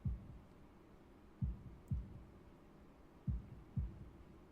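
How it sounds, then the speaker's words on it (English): Heartbeat sound effect from the Katawa Shoujo visual novel: five deep, muffled thumps at an uneven slow pace over a quiet hum. "holding my breath in an attempt to hear my heartbeat"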